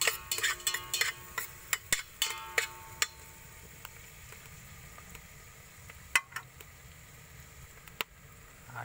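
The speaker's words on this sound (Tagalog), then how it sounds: "Simmer natin ng konti yung sibuyas at bawang." Onion and garlic frying in a pan for humba, a quiet background sizzle broken by sharp clicks and taps of a utensil against the pan, clustered early and then sparse.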